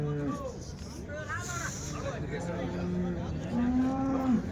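A cow at the Sunday cattle market in Chintamani gives long, drawn-out moos, several rising and falling calls close by, over a background of people talking and market hubbub.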